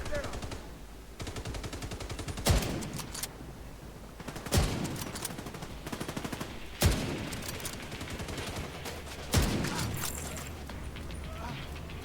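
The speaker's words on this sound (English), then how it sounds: "There's some gunfire going on here." Rapid bursts of gunfire crackle throughout in the video game The Division 2, punctuated by several louder, sharper shots every couple of seconds.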